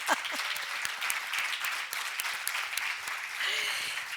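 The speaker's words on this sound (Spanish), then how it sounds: "Vamos a aplaudir" Audience applauding at a university alumni award ceremony, sustained dense clapping that fills the room evenly, with a voice faintly audible beneath it.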